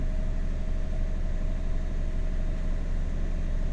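A boat engine runs steadily at about 800 RPM, a continuous low rumbling drone with a faint whine above it, close and unchanging throughout, with no voices.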